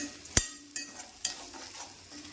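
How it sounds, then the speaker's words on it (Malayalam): Whole spices tempering in hot coconut oil for a Kerala koottukari: a couple of sharp crackling pops over a soft, steady sizzle, close by with no talking. "ഇതിൻ്റെ കൂടെ അങ്ങ് മൂത്ത് വന്നോളൂ വേണമെങ്കിൽ ഒരു ശകലം വെളിച്ചെണ്ണ കൂടെ ഒഴിച്ചു കൊടുക്കാം"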